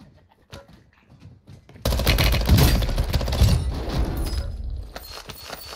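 Sudden heavy gunfire erupts in a Call of Duty Warzone Plunder firefight, a loud dense barrage of overlapping shots and impacts that follows a few quiet seconds of faint game sounds.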